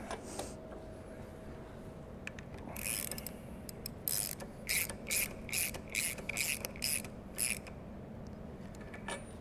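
A hand ratchet tightens a fitting on a Van's RV-10 aircraft, giving a series of crisp clicking bursts in quick succession that sound close and fairly loud against a quiet room hum.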